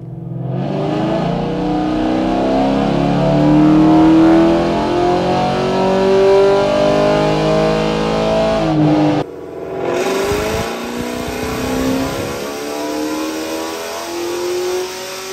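A cammed 6th-gen Chevrolet Camaro SS V8 screams through a long, loud rising pull on a dyno. The revs climb for about nine seconds, then cut sharply and swell into a second rising burst.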